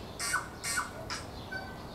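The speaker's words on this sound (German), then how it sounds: "Das ist ein komischer Vogel." An unusual bird calls from a treetop, giving repeated harsh, high squawks in a loose rhythm, about four calls over steady faint background hiss.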